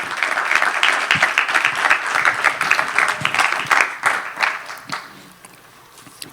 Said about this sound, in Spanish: Dale aplauso al Señor, sí, dáselo.